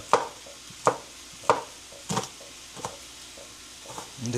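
A knife chops onion for tibs on a board in roughly regular strikes, about six sharp chops spaced under a second apart, close and clear, with a soft clatter at the end.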